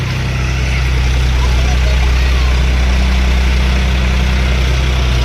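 A modified New Holland Tufan tractor engine idles steadily at close range, a loud, constant low rumble with a strong, even throb throughout.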